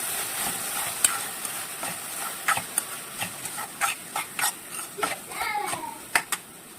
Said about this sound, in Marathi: बारीक चिरलेला टोमॅटो ॲड करायचा आहे, आणि याला पण आपण 1-2 मिनिटं सॉफ्ट होईपर्यंत परतून घ्यायचं आहे